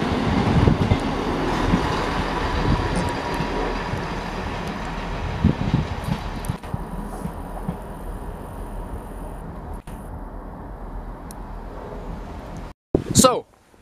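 An Aberdeen to Penzance passenger train pulls out of a station, a broad rumbling roar of wheels and engine that slowly fades, ending with a brief loud burst of noise.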